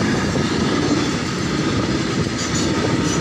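A train rumbles past close by, a loud continuous roar of wheels on rails with a low mechanical drone and no voices.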